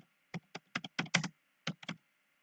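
Crisp, close computer keyboard typing in short bursts, about ten distinct keystrokes grouped in two runs with a pause between, loud and clear against near silence.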